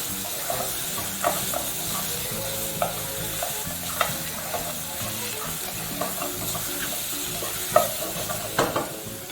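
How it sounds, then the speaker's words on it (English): Githeri with meat, finished with butter, stirred and mixed in a hot pan: a steady close sizzle and frying hiss run throughout, broken by irregular scrapes and clinks of the utensil. "we're just going to keep mixing that through"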